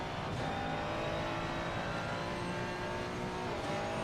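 A race car engine at Spa-Francorchamps in a sim racing game screams at high revs, loud and continuous, climbing steadily with no talk over it.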